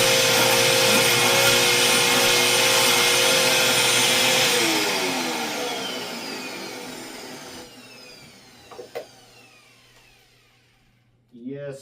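A Eureka Maxima 4750 upright vacuum cleaner with a badly stretched belt and a clogged body, running loud and close with a steady whine, then spinning down gradually into near silence, with a couple of clunks and a brief restart burst at the end.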